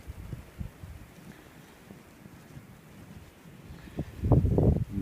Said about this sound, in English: Very heavy wind.